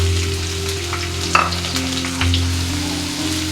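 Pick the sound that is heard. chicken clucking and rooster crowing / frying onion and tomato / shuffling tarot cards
frying onion and tomato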